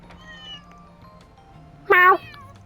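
In the video game Trails beyond the Horizon, a cat lets out one loud, clear meow near the end, following quieter tonal game sounds.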